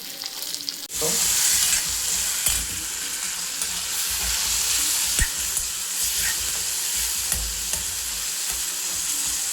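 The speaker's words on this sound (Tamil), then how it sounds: "இந்த வெங்காயம் பூண்டெல்லாம் நல்லா கொஞ்சம் வதங்கணும்" Onion, garlic and tomato sauté in a pan for a pirandai thuvaiyal, a loud sizzle bursting in after a second of quiet and hissing steadily, broken by occasional stirring scrapes.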